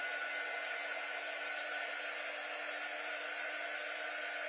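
A hair dryer blows on a sparkly craft project, a constant close-up whooshing drone with a steady motor whine that never changes for the whole stretch, with no voices over it.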